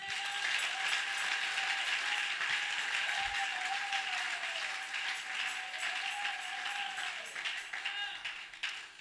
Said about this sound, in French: Si tu le crois, acclame Jésus.